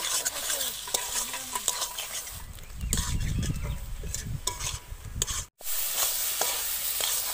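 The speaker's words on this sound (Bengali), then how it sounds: "পাঁচ মিনিটের মতন কষিয়ে নেব।" Ivy gourd is sautéed with cooked spices in a pan, with a steady sizzle and repeated scraping stirs of a utensil against the pan, loud and close, with a brief dropout near the end.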